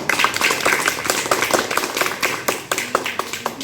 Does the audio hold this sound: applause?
yes